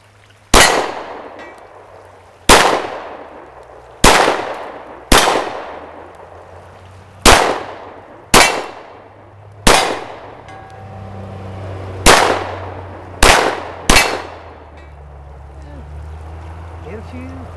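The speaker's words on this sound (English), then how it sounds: "What do you say we try 10 rounds?" Ten rounds fired from a Glock 48 pistol outdoors, each shot a sharp, loud crack with a decaying ring. The shots come at irregular intervals of one to two seconds, with a quick pair near the end.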